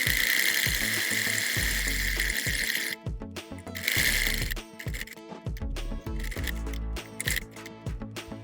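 A sewing machine stitches a baby boy's shirt in a fast, steady whir. The run breaks off briefly near three and four and a half seconds, then the stitching picks up again. It sounds close and loud, with no talk over it.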